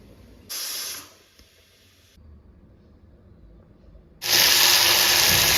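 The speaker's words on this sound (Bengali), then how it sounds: "সর্ষের তেলে পাঁচফোড়ন দিয়েছি ফোড়ন আর তার সাথে সবজিগুলো দিয়ে দিয়েছি একটু ফ্রাই হতে" Panch phoron spices and vegetables sizzling in hot mustard oil, a loud hissing burst that stops, a quiet pause, then a louder sustained sizzle as more goes into the pan.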